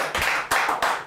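A small group claps in short bursts during a German live show, close up and fairly loud. Several separate waves of applause rise and fall within about a second, with no talk over them.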